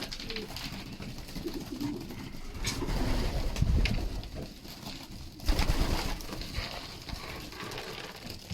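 Young pigeons bred in a loft coo softly and repeatedly at close range, with low rustling and occasional thumps of movement around them and no talking.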